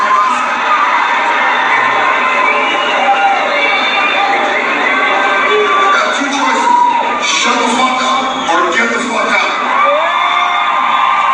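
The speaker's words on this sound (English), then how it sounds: "All these people are cheering" A large crowd cheering and shouting, with whoops and yells blending into a steady roar that holds loud throughout.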